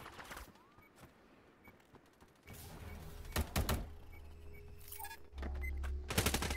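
Gunfire in the mobile shooter Hyper Front: scattered sharp bursts of shots, a loud volley near the middle and heavier automatic fire toward the end over game ambience.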